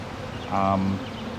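A steady honey bee buzz at a hive swells for a moment, then settles back into a low continuous drone, close by, with faint background noise and no talking.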